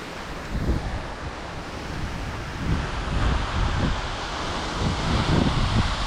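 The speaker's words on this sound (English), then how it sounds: "Yeah, it's an awesome waterfall." Lower Calf Creek Falls near Escalante, Utah, rushes in a steady, full-bodied roar of falling water, constant and fairly near with slight surges, no one talking.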